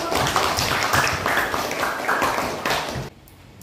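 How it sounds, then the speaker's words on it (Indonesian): Classroom applause for group one after their presentation: a steady, loud wash of clapping that stops abruptly near the end, leaving quiet room tone. "Kasih aplaus dulu"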